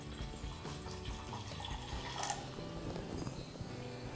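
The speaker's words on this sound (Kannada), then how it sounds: "ಇಲ್ಲೊಂದು ಪಾತ್ರೆ ಇಟ್ಟಿನಿ ರೀ ನನಗೆ, ಅದಕ್ಕೆ ಸ್ವಲ್ಪ ಸ್ವಲ್ಪ ನೀರು ಹಾಕ್ತೀನಿ ರೀ" Water runs and splashes into a cooking pot in a kitchen, making a soft, continuous trickle with small drips and gurgles. It is faint and close, with no talk.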